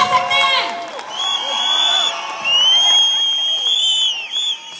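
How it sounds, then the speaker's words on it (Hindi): A crowd at an award ceremony and product launch cheers and whoops with some clapping, loud and lively with high shouts and whistles rising and falling over about five seconds. "आपने अपने सीनियर्स के लिए बहुत तालियां बजाई, R&D वालों के लिए भी बजानी पड़ेगी"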